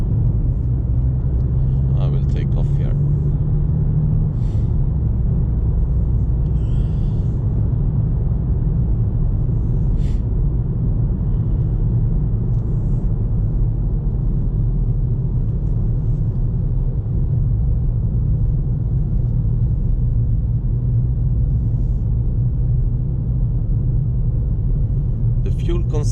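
Low, steady three-cylinder engine drone and road rumble from inside a moving Ford Fiesta ST MK8, continuous throughout, with someone talking intermittently over it.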